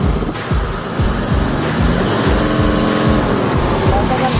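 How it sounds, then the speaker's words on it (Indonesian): A truck engine revs as the accelerator is pressed, giving a loud, close, throbbing motor drone with a rapid rhythmic pulsing and a rising whine. "dari suara mesin kedengaran kan bedanya"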